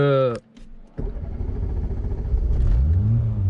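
A Peugeot 106 XSI Phase 1 pulls away after a brief voice, its engine rumbling low and rising steadily in pitch as it accelerates, loud and close from inside the car.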